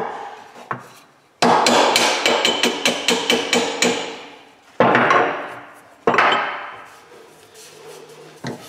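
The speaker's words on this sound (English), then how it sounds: "We should be able to tap that down in there nicely." Hammer tapping a U-joint bearing cap into an aluminium driveshaft yoke: a rapid run of about a dozen sharp metallic blows, then two single louder strikes with ringing decay, close up with no talk.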